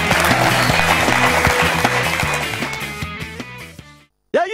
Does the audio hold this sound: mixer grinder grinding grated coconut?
no